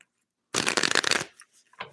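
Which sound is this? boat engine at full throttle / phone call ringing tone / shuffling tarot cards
shuffling tarot cards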